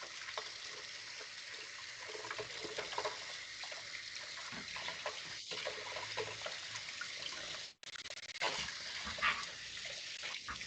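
Vegetable stalks are rinsed under a running kitchen tap, a steady nearby gush of water that carries on for about ten seconds, broken by one brief pause.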